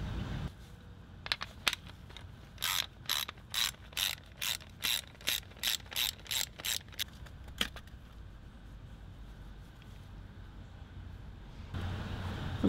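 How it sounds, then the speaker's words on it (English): Ratchet loosening a 10mm bolt on a BMW E90 power steering reservoir bracket, a close run of about a dozen evenly spaced clicking bursts after a few stray clicks, then quiet handling. "So we'll loosen up the 10mm bolt here and transfer this bracket"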